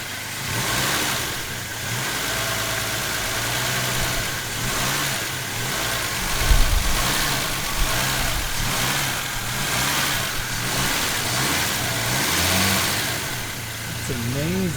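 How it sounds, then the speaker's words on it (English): A freshly rebuilt Volvo 164 engine idles roughly and is revved up and down repeatedly on its first start, the pitch rising and falling in waves, close and fairly loud. "so I gotta keep revving it up and down a little bit"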